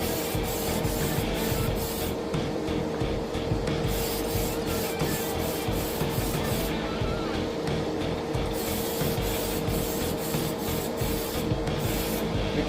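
Spray paint hisses out as another coat goes onto a decal sign, a loud continuous close spray with a steady rushing texture that barely changes.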